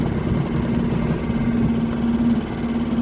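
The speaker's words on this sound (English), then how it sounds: "Outboard's running like a dream." Small outboard motor on an inflated dinghy idling in neutral, a steady low hum with a constant tonal drone, close and even throughout with no speech.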